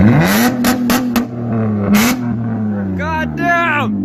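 A Subaru STI engine revs hard several times in loud bursts, its exhaust, catalytic converters still fitted, roaring close by while people talk excitedly over it.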